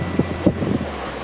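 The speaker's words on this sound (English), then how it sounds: "The wind's going to drop later in the day, but we'll take advantage of what we've got now." Steady wind buffets the microphone aboard a small sailboat crewed single-handed off the coast near Scarborough, a low, close rumble with a few brief thumps.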